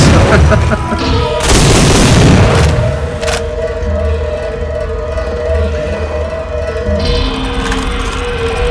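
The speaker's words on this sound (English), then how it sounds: "And here we go, shooting up the place." Gunfire and explosions in the PC shooter Soldier of Fortune 2: Double Helix, a loud booming burst of shots that fades into a lingering rumble and scattered later shots, with no talk.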